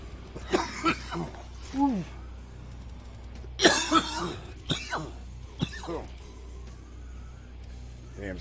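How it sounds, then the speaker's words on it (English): Several harsh, raspy smoker's coughs and throat-clearing bursts come in clusters, close up, with some quiet voice sounds in between. "Damn smoker's cough."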